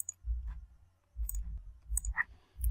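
Several distinct mouse clicks sound sharp and close during work in CYPECAD structural design software, spaced irregularly with brief quiet gaps and faint desk thumps, alone with no talking.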